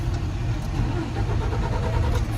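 A manual CDL Class A truck's engine turns over and settles into a loud, close, rumbling idle, steady throughout the short span.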